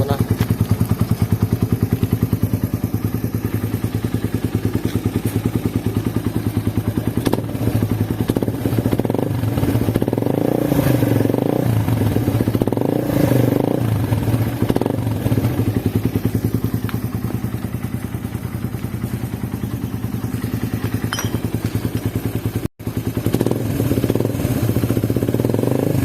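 Suzuki Raider 150 motorcycle fitted with an Apido v3 exhaust, engine running loud and close with a rapid clattering idle and several swelling revs over about half a minute, with no talk.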